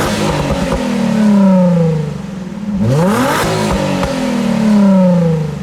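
A Nissan 350Z Roadster with the roof fully off revs its engine loudly up close, in two rising and falling sweeps separated by a brief drop to idle.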